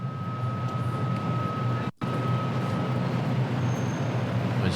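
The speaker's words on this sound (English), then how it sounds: "Might just put a bit more traffic rumble on here somewhere." Traffic rumble sound effect being layered in an editing session: a steady low roadway drone with a faint tonal whine, cut by a brief silent gap before resuming just as before.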